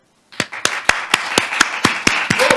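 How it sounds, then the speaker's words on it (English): Applause for staff members at the Seoul Climate Energy Conference comes as sharp, evenly spaced claps, about ten in steady rhythm, loud and close to the microphone after a brief silence. "Please join me applauding them."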